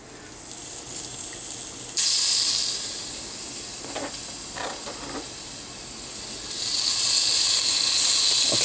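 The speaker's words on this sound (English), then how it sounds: "So what I'm doing is render the bacon." Bacon rendering in a pan for coq au vin, a continuous close sizzle and crackle with hissy swells growing louder toward the end, with a few sharper pops along the way.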